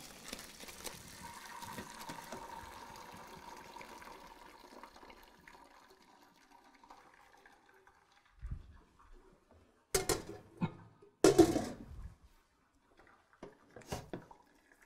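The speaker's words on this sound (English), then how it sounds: "we're just going to pour it off into this strainer" Hot herbal liquid mixture being poured off through a strainer in a home kitchen: a steady watery pour and trickle fading over several seconds, then a few sharp clanks and splashes of handling nearby, with no talk.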